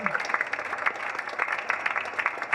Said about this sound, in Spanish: vamos a dar un aplauso para las 4 compañeras